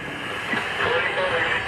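A New York subway train rumbles steadily through a tunnel or station, a continuous loud rolling roar with faint rail clatter, while voices talk faintly underneath.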